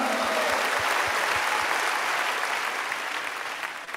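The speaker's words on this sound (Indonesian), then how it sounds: "Berikan tepuk tangan buat Tuhan." A church congregation claps steadily, a dense wash of applause that holds for a few seconds before gradually thinning out.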